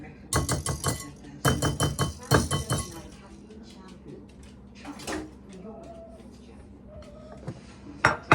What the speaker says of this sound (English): I'm gonna get this scooped into our pie pan